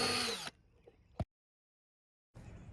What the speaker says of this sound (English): I'm going to drill a hole right through here and pop a rivet in there.